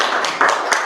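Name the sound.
audience applause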